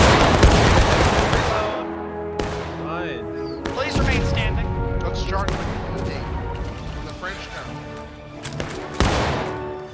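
Musket volleys crack out in the War of Rights video game, several loud broadside blasts with rolling echoes and scattered shots between them, over chatter and voices.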